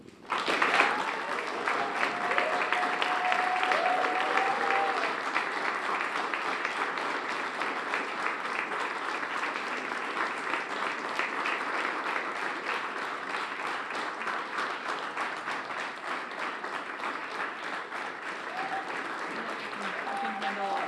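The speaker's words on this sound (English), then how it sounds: "we'll give you a big round of applause" A crowd claps for the runner-up team at a state high school mock trial championship in Ohio, a loud, sustained ovation rising quickly and continuing evenly for around twenty seconds with scattered voices underneath.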